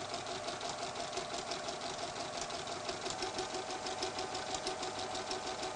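A sewing machine runs steadily while stitching an apron, a dense continuous mechanical whir with fast regular needle chatter, close and fairly loud throughout with no talking.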